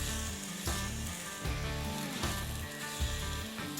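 Wagyu beef sizzles steadily on the cooler warming side of a grill, a loud, continuous crackling hiss that never lets up and carries a low rumble underneath.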